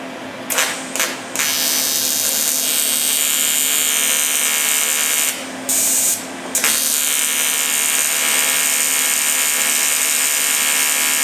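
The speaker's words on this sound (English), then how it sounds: "on this one we're going to have a go at uh, TIG welding some, some aluminium" TIG welding of aluminium sheet with a filler rod makes a loud, steady buzzing hiss under a low hum, broken by two short gaps where the arc stops and restarts; no voices.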